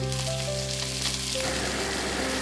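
Dried chepa shutki fish, garlic and bean seeds sizzling in hot oil in a pan, a steady close crackling fry with no voices over it.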